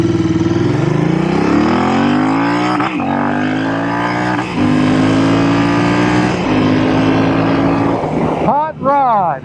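A Royal Enfield Interceptor 865 motorcycle engine revs loud and close, a sustained rising roar broken by brief gear-change dips, ending with quick sharp throttle blips.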